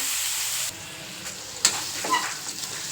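Bitter gourd pieces frying in oil over medium heat, a steady soft sizzle with a few sharper crackles and stirring clinks near the end; no talking.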